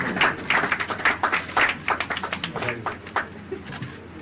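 Applause for a top-ranked trainee at a police deputy superintendents' graduation ceremony in Bhopal, with irregular claps in bursts over faint background voices and murmur.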